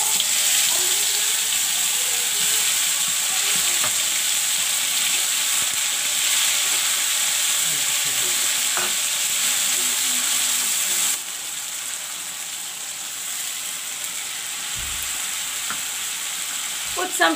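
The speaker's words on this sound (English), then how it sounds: "put in the salt and let the masala fry" Masala paste with dry red chilies, salt and turmeric fries and is stirred in a pan for a fish curry, giving a steady close sizzle with occasional scraping stirs and no talk.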